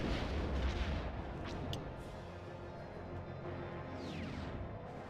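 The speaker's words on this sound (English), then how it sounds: "That's missile." A missile launch in Star Wars Episode 1 Racer gives a steady booming roar with crackling bursts, sustained and fairly close for several seconds, with no talking.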